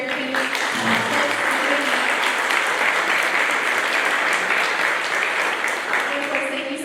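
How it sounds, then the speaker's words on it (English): A room of workshop attendees applauds the event sponsor German American Bank, steady crowd clapping running loud and dense throughout, with some voices mixed into the noise. "So a quick round of applause to our German American folks."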